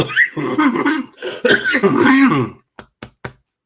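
A person talks, then coughs three times in short, sharp bursts near the mic, with brief gaps between them.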